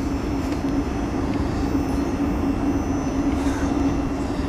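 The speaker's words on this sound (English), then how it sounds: "458501 departs Datchet for Windsor Eton Riverside." A South Western Railway Class 458 electric train pulls away from Datchet station toward Windsor, giving a steady, loud rumble with a constant low hum held throughout and no voices.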